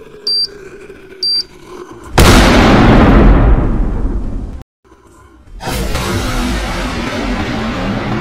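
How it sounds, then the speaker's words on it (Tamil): Two atom bomb firecrackers tied together go off inside a metal pot during Diwali, with two short beeps, then a loud sustained blast that slowly decays, a brief silence, and a second long roaring burst. "இந்த ரெண்டு அணுகுண்டையும் சேர்த்து ஒன்னா திரிச்சு இந்த போனிக்குள்ள வைக்க போறேன்."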